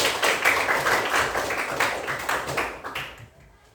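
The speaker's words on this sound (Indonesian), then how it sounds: "Ya, tepuk tangan buat kita semua." Children in a classroom clap their hands together, a dense, lively patter of many small claps that carries steadily before fading out at the very end.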